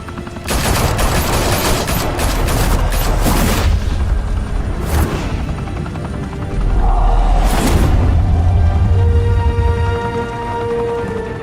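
Gunfire in a Batman video game: dense, loud bursts of rapid shots and booming blasts, close up, with a short lull midway before another heavy volley.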